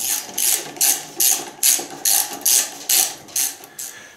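Ratchet fitted with a 5mm Allen bit socket turning a bolt on a Bowflex Max Trainer, about ten crisp clicking bursts in an even back-and-forth rhythm, close and loud.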